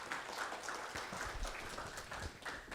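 Audience applause at a Busan digital logistics conference after a talk, a steady wash of clapping from many hands, moderately distant and fairly quiet, with no voices over it.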